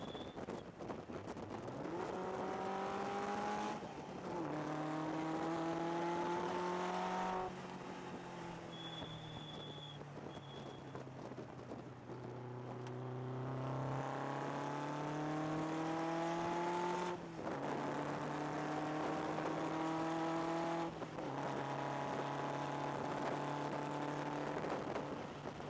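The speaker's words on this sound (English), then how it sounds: "This car is very powerful and very fast." A powerful, fast Lotus sports car drives hard, its engine note climbing and dropping through repeated gear changes, loud and close from inside the car for the whole stretch.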